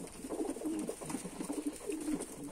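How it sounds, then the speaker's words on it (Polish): Breeding pigeons in a loft give soft, repeated throaty coos in a gentle rolling rhythm, faint and close, with no voices. "Tutaj mam takie moje sprawdzone gołębie"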